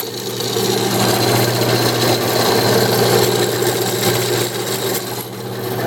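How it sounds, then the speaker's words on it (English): An unused Enco 7x12 horizontal metal-cutting bandsaw runs steadily nearby, its motor hum and blade whir holding a constant loud drone with a slight rasping texture throughout. "here we have a Enco 7" by 12" horizontal bandsaw"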